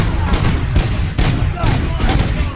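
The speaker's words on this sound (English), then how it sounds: "am I hearing gunshots?" Gunfire in the video game RoboCop Rogue City, a dense, loud fusillade of shots and thumps sounding in rapid bursts, with game voices faintly mixed in.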